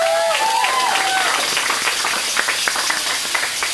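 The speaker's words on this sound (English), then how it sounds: "So, applause for your mighty ship." An audience at a Renaissance faire show of The Tempest claps and applauds steadily, a dense wash of clapping from a crowd nearby, with a brief whistle at the start.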